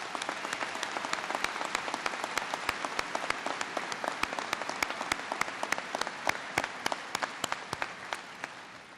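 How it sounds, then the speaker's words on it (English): A crowd at an Obama speech in South Dakota applauds with a dense, even wash of clapping that holds steady throughout. "let's give them a big round of applause"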